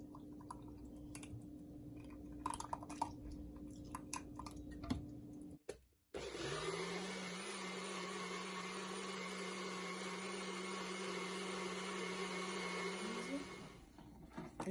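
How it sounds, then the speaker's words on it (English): A kitchen blender whirs up bulgur, oatmeal and coconut milk, starting abruptly after some light clicks and handling noises, then running at a loud, steady pitch before winding down. "I blend with the coconut milk and the evaporated milk"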